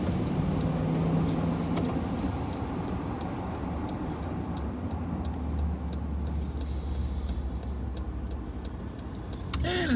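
A car with a faulty, poorly working muffler rumbles steadily at close range, a low droning exhaust roar that holds for the whole stretch with faint ticking above it.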